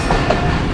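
The Millat Express rolls along the rails in a brief, loud, close rumble of wheels and carriages with no voices.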